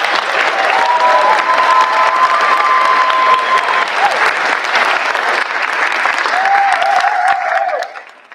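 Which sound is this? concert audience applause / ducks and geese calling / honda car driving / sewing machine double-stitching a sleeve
concert audience applause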